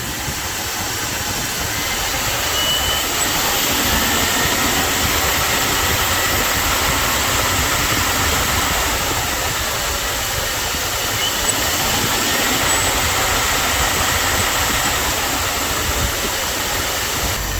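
A Dodge W300 Club Cab's engine, running rough and not firing on all cylinders, is held at a steady raised speed, producing a constant, even drone with no voices.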